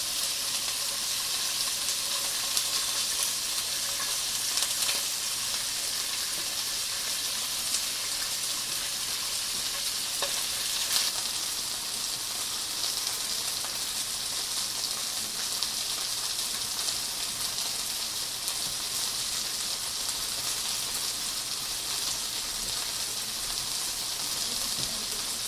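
Korean chicken skewers (dakkochi) frying in a pan give a steady, close hiss of sizzling oil for the whole stretch, with faint pops and crackles and no talking.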